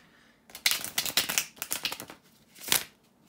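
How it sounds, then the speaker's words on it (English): A tarot deck is shuffled by hand, producing close, crisp bursts of riffling card noise in several quick runs with short pauses between them. "bear with me a second, guys, to shuffle the tarot cards"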